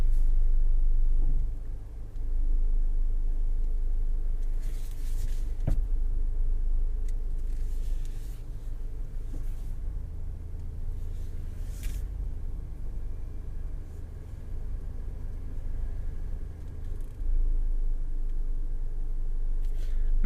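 A Toyota C-HR reverses slowly into a parking space, giving a steady low engine hum and rumble close by, with a few faint clicks and no talking.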